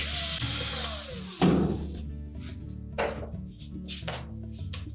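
Power driver backing out two 5/16 hex head screws from the motor cover of a Whirlpool washer, a loud whirring burst followed by clunks and short tool whines at close range.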